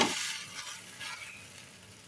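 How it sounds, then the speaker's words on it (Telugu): A flatbread fries in a pan with a little oil around its edges, giving a steady, close hiss of sizzling that fades slightly over two seconds, with no voices. "అంచుల వెంట కొద్దిగా ఆయిల్ వేసుకొని కాల్చుకోవాలి."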